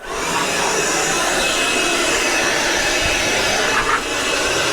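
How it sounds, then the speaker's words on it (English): A Makita blower roars steadily and loudly at close range, drying a wet Porsche after a wash, with a continuous, unbroken whoosh and no talking. "you've had enough of using your fancy Makita blower?"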